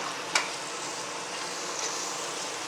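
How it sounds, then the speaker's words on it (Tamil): Ground mint and coriander paste fries in a pan for kuska plain biryani, making a soft steady sizzle with a single sharp stirring clink near the start. "நல்லா கொஞ்சம் நேரம் ஃப்ரை ஆகட்டும்."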